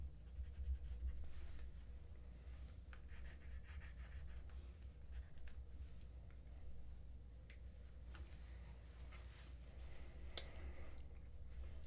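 Colored pencil sketching a water tower on sketchbook paper: faint, close, intermittent scratchy strokes come in short bursts over a steady low hum, with no talking.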